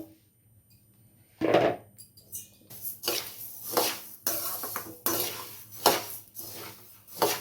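Coriander seeds are dry-roasted in a pan. After a quiet start, the seeds pour in with a rattling rush, followed by repeated scraping and stirring clatter of a utensil against the pan, close and fairly loud, with no talking.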